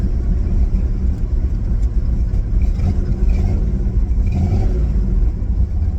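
A Buick 350 engine idles in a van, a steady low rumbling drone that holds evenly throughout with no talk over it.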